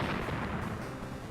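Bomb combo blast in the mobile game Badland Brawl, a dense, sustained low rumbling explosion that fills the short moment at steady loudness with no talk.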